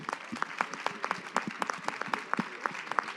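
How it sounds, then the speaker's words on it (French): Applause from an audience at a women's sports leadership event, a steady patter of hand claps with sharper individual claps standing out, moderately loud and continuous throughout. "On peut l'applaudir."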